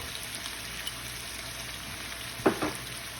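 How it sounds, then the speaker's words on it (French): Noodles with chicken and vegetables sizzle steadily in a hot pan, a constant frying hiss with a brief scraping stir near the end. "Et on va mélanger."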